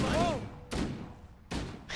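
Assault rifle shots in Halo: Combat Evolved, heard as three sharp broadband bursts about three-quarters of a second apart, loud and close, with a brief rising electronic tone before the first.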